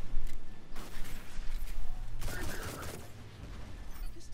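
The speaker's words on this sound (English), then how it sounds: "I'm shooting them." Gunfire rattles in Destiny 2 combat against Cabal enemies, bursts of shots in short clusters with a low mechanical hum underneath, moderately loud.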